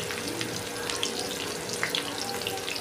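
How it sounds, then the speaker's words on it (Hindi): Garlic frying in a pan with mustard seeds for baingan bharta, a steady close hiss and sizzle with faint crackles, no voices. "लहसुन को थोड़ा सा पकने देंगे।"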